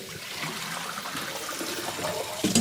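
Boiling water is poured into a bowl of cellophane noodles to soak them, a continuous close rushing pour that ends with a brief clink.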